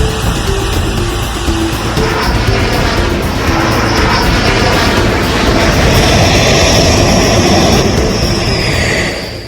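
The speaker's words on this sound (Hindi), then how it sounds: "जैसे ही राफेल लड़ाकू विमानों ने अंबाला की जमीन को छुआ" Rafale fighter jets landing at Ambala make a loud, continuous roar of jet engines that swells and shifts in pitch as they pass. The sound holds throughout with no talking.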